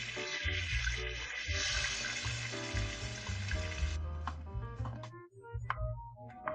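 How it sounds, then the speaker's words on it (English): Finely chopped onion sizzling in oil in a pan, a steady close frying hiss with some clinks and stirring noises toward the end. "Chop the onion as small as possible and add it to the same oil"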